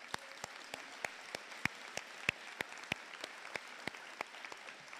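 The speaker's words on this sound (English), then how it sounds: "Let's give you a round of applause." Audience applause at the Clarington Central Secondary School 2022 high school graduation ceremony, a sparse, fairly quiet patter of individual claps with distinct sharp hand strikes standing out from a soft wash of clapping throughout.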